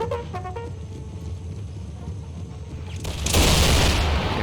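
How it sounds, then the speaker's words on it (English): A rifle volley opens fire in a multiplayer Napoleonic battle video game with the Empire 2 mod. Quiet battlefield ambience and a few faint clicks give way to a sudden loud crackling burst of massed shots that rolls on to the end. "First shots have been fired."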